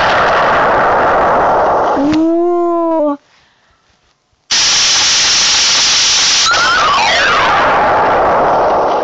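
A cartoon bomb in a kids' animation about pulling toys from a prize claw machine: a wobbling whistle-like tone, a moment of near silence, then a loud sustained roaring blast with a falling whine inside it.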